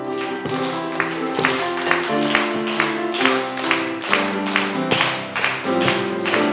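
A church congregation claps along as it sings a hymn, with steady rhythmic clapping under loud, full voices and accompaniment.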